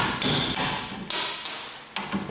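A hammer drives an aluminum punch into the front-end parts of a Datsun 520 pickup. Five or six sharp metallic strikes land at irregular intervals over a ringing workshop background, loud and close.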